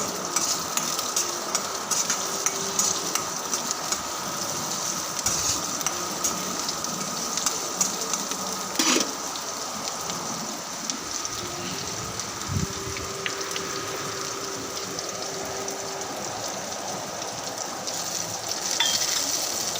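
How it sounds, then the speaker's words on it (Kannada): Chopped onion frying in a pan, a continuous close sizzle with occasional utensil scrapes and knocks, a steady hiss holding throughout with no talking. "ಒಂದು ಈರುಳ್ಳಿ ನಾನು ಕಟ್ ಮಾಡಿ ಹಾಕ್ತಾ ಇದ್ದೀನಿ ಚೆನ್ನಾಗಿ ಫ್ರೈ ಮಾಡಿ"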